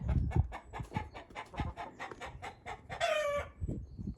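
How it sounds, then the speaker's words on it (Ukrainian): A rooster crows once with a short strained call, amid steady rhythmic clucking and fluttery farmyard noise nearby. "Петух кричить, що кипіш."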